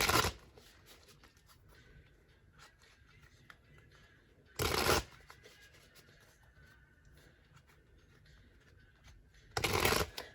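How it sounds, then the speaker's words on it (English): Three loud bursts of a Gilded Tarot Royale deck being riffle-shuffled, spaced several seconds apart, with quiet room noise and faint handling in between. "I'm going to go ahead and shuffle a few more times and split the deck,"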